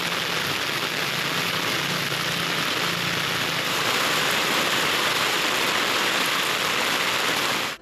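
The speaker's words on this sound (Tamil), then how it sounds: "கன்னியாகுமரி மாவட்ட மேற்கு தொடர்ச்சி மலையோர கிராமங்களில் கனமழை பெய்தது." Heavy rain pouring over hillside villages of the Western Ghats in Kanyakumari district, a steady, dense, loud hiss of falling water that continues unbroken before cutting off abruptly.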